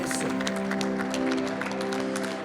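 Dense, steady audience applause at a startup pitch competition for transport companies at the SITL Europe 2016 trade show, continuous clapping from a sizeable crowd throughout.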